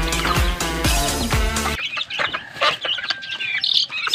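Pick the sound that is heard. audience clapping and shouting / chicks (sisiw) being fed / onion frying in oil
chicks (sisiw) being fed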